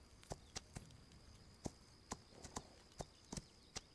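Horse hooves clip-clop in the video game This Land is My Land, about a dozen sharp, fairly quiet hoofbeats in an uneven walking rhythm over a faint steady background, with no talk.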